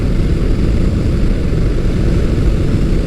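Steady, loud wind roar buffets a rider's helmet aboard a Motus MSTR motorcycle with a 1650cc V-4 engine, a constant low-heavy rush with no voices.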